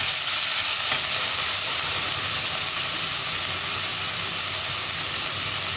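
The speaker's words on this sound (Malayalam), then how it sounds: "ഇത്രയും ചേർത്ത് നന്നായിട്ടൊന്ന് വഴറ്റിയെടുക്കുക." Onion, green chili, crushed ginger, garlic and curry leaves sautéing in a pan for green peas curry: a loud, continuous hissing sizzle that stays steady from start to finish.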